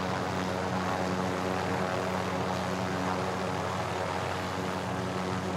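A helicopter in a multiplayer shooter game gives off a constant loud engine and rotor drone that stays steady and unbroken throughout, with no voices.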